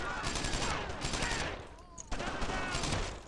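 Rifle and machine-gun fire from soldiers in the World War II shooter Brothers in Arms: Earned in Blood, rapid overlapping bursts close by, a brief lull midway, then heavy firing resumes.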